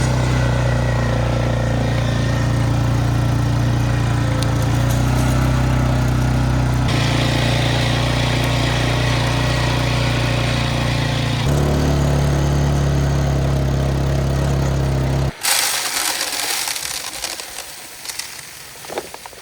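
A four-wheeler engine drones loud and close as its tires roll over freshly seeded ground, a steady throbbing hum shifting pitch a few times before dropping off and fading near the end.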